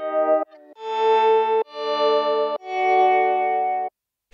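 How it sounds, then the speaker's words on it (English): Simple electric guitar run through an attack delay pedal in a song's outro, each note swelling in softly. Four sustained, heavily effected chords ring out loud and alone, separated by brief gaps. "We have this simple guitar going through an attack delay pedal, which sort of softens each note."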